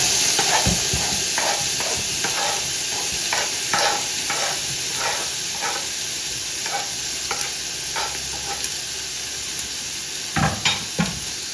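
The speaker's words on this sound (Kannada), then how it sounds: "ಈ ಕ್ಯಾಪ್ಸಿಕಮ್ ಮತ್ತು ಟೊಮ್ಯಾಟೊ ಏನು ಕಟ್ ಮಾಡ್ಕೊಂಡಿದ್ದೀವಿ ಇದನ್ನು ಕೂಡ ಹಾಕೊಂಡ್ಬಿಡ್ಬೇಕು." Chopped capsicum and tomato frying in a pan for pav bhaji, a steady loud sizzle with repeated scraping stirs of a spatula and no talk.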